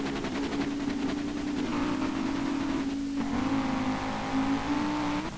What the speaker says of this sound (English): Like, my engine sounds the best.